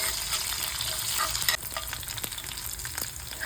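Steady, loud sizzling of a tempering with curry leaves frying in oil in a pan, with a few scraping stirs cutting through the continuous crackle.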